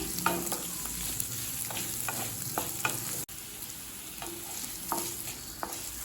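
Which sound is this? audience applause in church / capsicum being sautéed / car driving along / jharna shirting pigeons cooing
capsicum being sautéed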